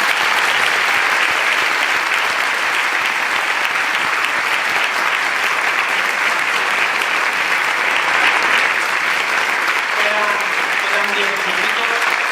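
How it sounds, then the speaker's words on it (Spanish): Sustained audience applause at a talk on the Call of Cthulhu role-playing game, a dense, even roar of many hands clapping throughout, with faint voices surfacing near the end. "Un aplauso, señores."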